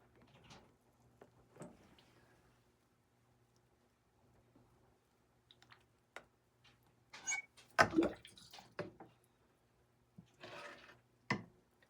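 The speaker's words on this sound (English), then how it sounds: "I just have my turkey baster and I'm just very gently giving them a little bit of more water" Seedlings being gently watered with a turkey baster indoors, quiet scattered squirts and drips with a few louder splashy bursts near the end.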